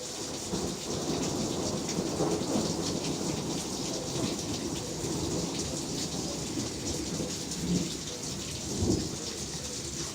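A thunderstorm in steady, dense rain, with low rumbling thunder rolling beneath the downpour and a couple of louder thunder swells near the end, continuous throughout.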